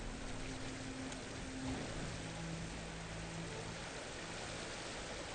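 Steady rushing water of a waterfall in the survival game Enshrouded, a broad continuous wash that fills the scene from start to finish, with a faint low hum of ambient game music beneath and no one talking.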